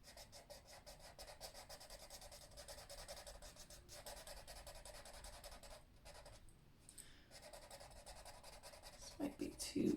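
Colored pencil being burnished firmly over a drawing in an adult coloring book, a close, steady waxy rubbing and scratching that runs continuously with brief pauses.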